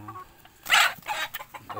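A gamefowl chicken from a game farm gives a few short clucks close by, one louder burst followed by softer broken calls.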